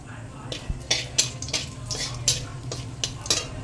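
Bay leaf and whole garam masala fry in hot oil for a mutton dish, a soft sizzle under rhythmic spatula scrapes and metallic taps against the pan, close by, with a voice talking at times.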